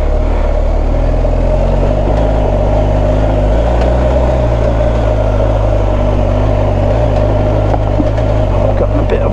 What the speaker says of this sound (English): I've gotten a bit of wheel spin.